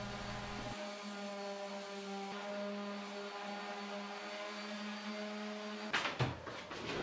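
A power sander with sandpaper runs over a furniture base, giving a steady, close motor whine that cuts off near the end, followed by a few clunks.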